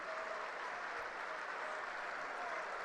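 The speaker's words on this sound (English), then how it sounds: "Good round of applause for Liam Hood." Rugby crowd at a Championship match between Trinity and Dewsbury Rams applauding a departing player, a steady, dense wash of clapping from the stands that holds evenly throughout, with no break.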